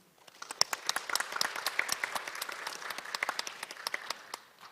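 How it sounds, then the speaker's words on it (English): Audience applause fills a conference hall for a law professor being introduced on a panel, steady clapping from a moderate-sized crowd that builds quickly and fades out after a few seconds. "Would you give Professor Song a big applause?"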